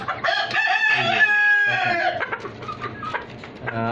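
Country chickens kept in cages on a small farm cluck while a rooster crows loudly and close, followed by more clucking and fowl calls.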